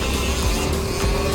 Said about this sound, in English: here's the race cart